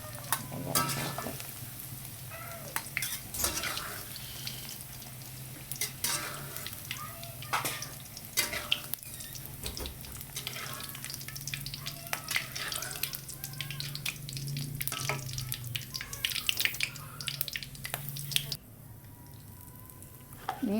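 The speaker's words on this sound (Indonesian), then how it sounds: "Goreng tempe." Tempeh frying in oil for an Indonesian orek tempe with sambal goreng, a steady crackling sizzle with stirring clatter and occasional scrapes, close and fairly loud throughout, easing off near the end.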